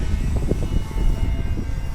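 A Flex Innovations Mamba 10 G2 model airplane's engine drones steadily with a low, buzzing propeller hum and a slight pulsing, fairly close.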